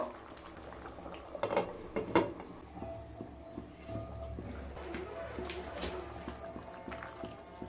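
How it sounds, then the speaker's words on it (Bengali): Bottle gourd and potato curry made with coconut milk bubbles in a pot, a quiet steady simmer with a few louder knocks and clatters early on. "তরকারিটা ফুটে গেছে"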